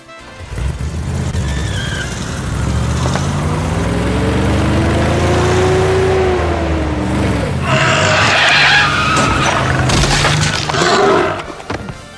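Trucks driving in the Teen Titans PS2 video game at a loading dock, a steady engine drone with a slowly rising and falling whine, then brighter skidding and clatter near the end, loud throughout.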